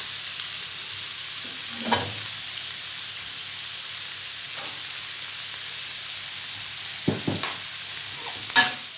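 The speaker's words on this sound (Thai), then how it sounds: "เราผัดให้เขาสุกนะคะ" Mixed vegetables with shrimp and pork are stir-fried in a pan, producing a soft steady sizzle broken by a few scraping spatula strokes and clinks, one sharper knock near the end.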